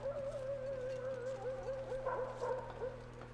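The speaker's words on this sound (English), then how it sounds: "The barking in the distance?" Distant dog barking and whimpering in the survival video game The Long Dark, a faint wavering yelping call that repeats over a steady low ambient hum, with no voices over it.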